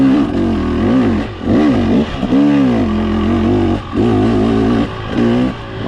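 A 2023 TBT Racing 300 dirt bike with an RK Tek head revs hard in third gear, rising and falling in repeated loud, close pulls that fill the whole stretch.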